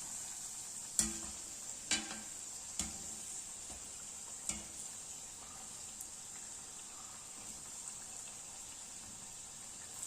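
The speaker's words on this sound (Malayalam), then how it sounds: "ശേഷം നല്ല തിളച്ച എണ്ണയിലിട്ടിട്ട് വറുത്തെടുക്കുക." Food fries in boiling oil with a steady, soft high hiss running throughout, broken by a few light utensil taps early on, quiet and close with no voices.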